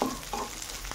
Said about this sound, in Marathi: गाजर मटर 1 मिनिटभर याच्यामध्ये आपण आता परतून घेणार आहोत।